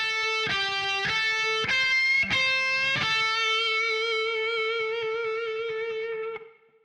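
Distorted electric guitar solo with wide vibrato and slight quarter-tone bends: several picked notes in a row, then one long bent note held with wavering pitch before it cuts off, loud and alone.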